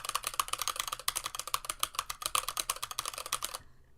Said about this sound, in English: So you're hearing the keyboard a lot.